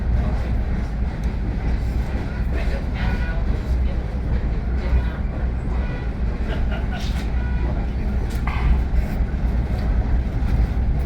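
Reading & Northern Railroad passenger train riding between Pittston and Jim Thorpe, a steady, loud rumble of wheels and car noise throughout with occasional higher clanks and squeals.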